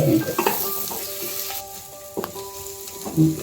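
Chili powder and coarse salt frying in a pan with dried mango pieces: bright sizzling with repeated scraping stirs and clinks of a utensil against the pan, close and alone.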